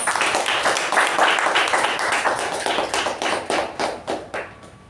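A meeting audience greets the master of ceremonies at a Toastmasters gathering with a close, brisk round of clapping that thins into a few separate claps and dies away near the end.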